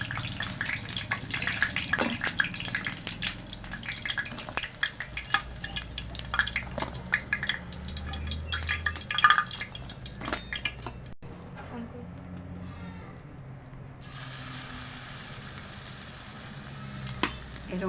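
Dumur patar bora, fig-leaf fritters, frying in oil, with a steady close crackle and sizzle broken by clinks of utensils against the pan. The frying briefly drops away, then resumes.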